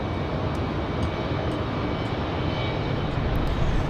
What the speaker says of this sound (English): that A220, 2 hours, 5 minutes of flight time from Minneapolis